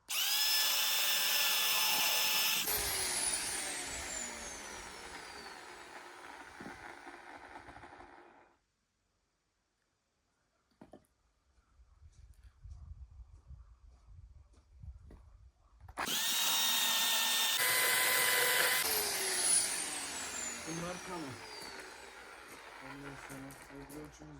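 Electric wood-cutting machine running loud and close, a steady whining drone that stops, leaving a quieter stretch of rustling and handling, then starts up again at full power.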